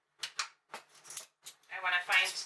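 Metal measuring spoons clinking as someone searches for the teaspoon while baking cookies, in a few brief jangling bursts close by, ending in a longer rattle.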